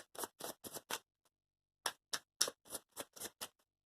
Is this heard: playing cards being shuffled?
yes